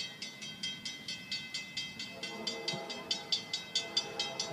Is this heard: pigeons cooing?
no